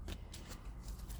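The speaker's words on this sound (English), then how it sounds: "The Justice card keeps popping out in the bottom even though I'm shuffling." A tarot card deck being shuffled by hand gives short, quiet papery riffles in a few quick bursts, close and soft against low background hum.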